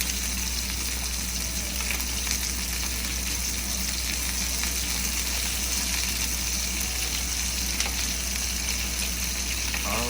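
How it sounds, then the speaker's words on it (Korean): Butter spooned over a tomahawk steak in a hot pan with rosemary, a loud, steady, continuous sizzle and crackle close by, no voices. "스테이크 고기 위에 버터를 불러줍니다"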